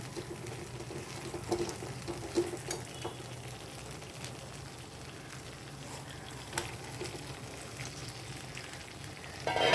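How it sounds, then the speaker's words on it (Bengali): Fried pointed gourd tossed into a pan of sizzling spice masala, giving a steady low crackle of frying throughout with occasional soft knocks and scrapes of stirring. "পটলটা দিয়ে মশলার সঙ্গে ভালোভাবে মাখিয়ে নেব যাতে পটলগুলোর মধ্যে ভালোভাবে মশলা ঢোকে"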